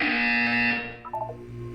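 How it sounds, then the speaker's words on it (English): A loud electronic buzzer in the video game Portal 2 drones steadily, then cuts to a few short higher tones. "You will hear a buzzer."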